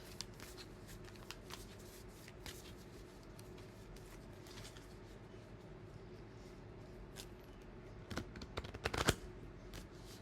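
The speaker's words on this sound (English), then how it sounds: "Really shuffling, because These cards really stick together." Tarot cards that stick together are shuffled quietly and repeatedly, soft riffling and tapping sounds, with a brief louder flurry of snaps near the end.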